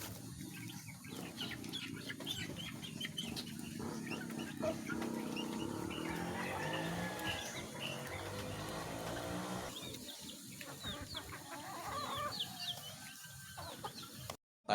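A flock of chickens clucks steadily at close range around a newly built perch and feeding area on a rain-soaked farm, with overlapping calls throughout and a louder flurry near the end.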